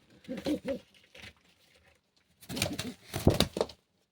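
Long-kept pet birds give two separate bursts of throaty cooing, close by, with a quiet gap between them.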